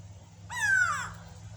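Grey go-away bird giving one loud, harsh descending call lasting about half a second, close by over a low steady background hum.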